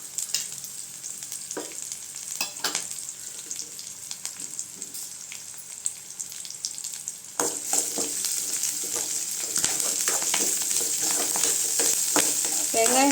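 Onions sauté and sizzle steadily in an oil-filled pan for sundakkai koottu, a continuous hiss with occasional stirring scrapes, growing slightly louder partway through.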